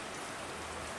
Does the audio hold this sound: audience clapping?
no